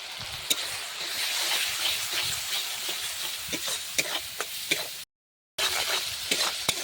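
Ground cumin, coriander and turmeric frying in a pan, a constant sizzle with frequent stirring scrapes and clinks, briefly cut to silence near the end before the frying resumes.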